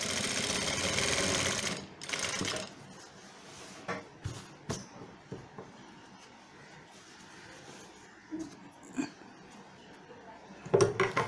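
An electric sewing machine stitches a shirt in a long whirring run at the start, then pauses and gives a few short bursts, fairly close, with light handling noises between.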